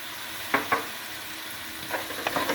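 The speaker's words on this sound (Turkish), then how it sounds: "Ve tereyağlarım eriyinceye kadar karıştırıyorum." Butter and lemon juice melt over heat in a pan while being stirred, a soft low sizzle broken by a few scraping strokes of the spoon.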